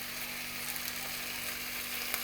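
Chicken thighs sizzle skin-side down in a pan, a steady close crackle and hiss of frying fat with occasional pops, alone without talk.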